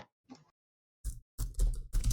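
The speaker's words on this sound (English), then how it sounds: "I'm very fast at typing." Quick bursts of computer keyboard typing, a few isolated clicks first, then denser clattering keystrokes close up, with no voices.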